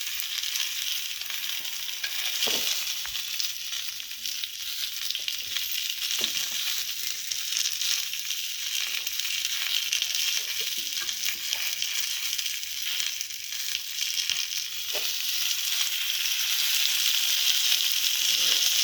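Alu wadi frying in oil in a pan gives a constant bright sizzle across the whole stretch, with occasional soft taps and scrapes as the pieces are turned, and no voices.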